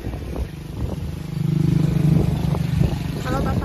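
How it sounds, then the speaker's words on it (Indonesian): A motorcycle passes nearby on a street, its engine drone swelling and fading over a few seconds beneath background noise, with speech around it. "Ada motor."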